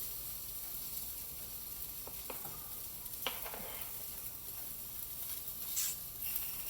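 Wheat pancake batter sizzles quietly in a pan, a soft, steady crackle with a few faint clinks and utensil taps.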